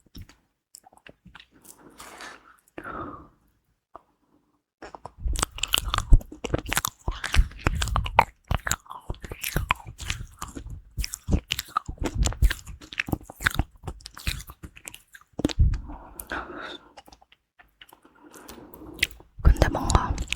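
Crunchy bites and wet chewing of Sichuan mala tang spicy hot pot, close and dense, with rapid crackling crunches for about ten seconds, bracketed by soft whispering and quieter mouth sounds at the start and end.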